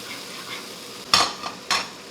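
Clams and seafood are stir-fried in a pan for jjamppong, with a faint sizzle underneath and two sharp scraping stirs against the pan.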